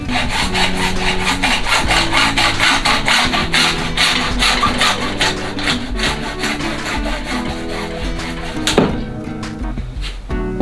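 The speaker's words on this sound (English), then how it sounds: "I think you'll find when you're cutting PVC with a hacksaw, you don't get a very nice straight cut." A hacksaw cuts through a PVC tube with fast, steady back-and-forth rasping strokes, loud and close, running continuously until a final clunk near the end.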